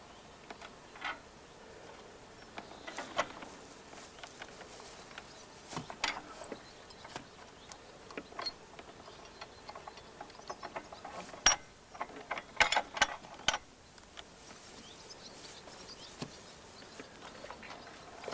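A horse-drawn mower's mechanism runs with faint, irregular ratcheting clicks and gear ticks, with a few sharper clacks standing out against a quiet outdoor background.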